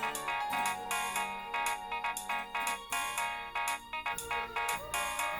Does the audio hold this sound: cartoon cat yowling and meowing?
no